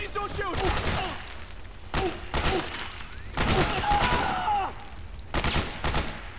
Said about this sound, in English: You don't have to keep shooting him.